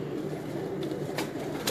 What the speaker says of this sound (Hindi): ये इनके परवाजी कबूतर हैं जो आपको दिखा रहे हैं